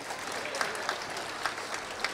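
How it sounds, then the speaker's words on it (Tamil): An audience at a comedy speech breaks into applause, a steady wash of many clapping hands carried evenly across two seconds with a few sharper claps standing out, and no voices over it. "கைதட்டு வைங்கன்னு நினைச்சேன்."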